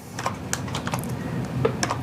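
Rapid typing on a computer keyboard during a C# programming session: a dozen or so sharp, irregular key clicks at close range, moderately loud, with no voices.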